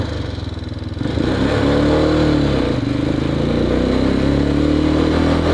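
Engine of a motorcycle on a ride, a close, loud, steady drone that rises briefly as the throttle opens and then holds with slight shifts in pitch, with no talk.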